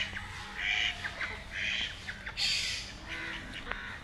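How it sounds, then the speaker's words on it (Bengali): Several ducks quack and squawk in repeated harsh bursts at a pond, moderately close and fairly quiet against a soft background. "আজকে আমার হাঁসগুলোকে দেখাতে নিয়ে আসলাম পুকুরের মধ্যে"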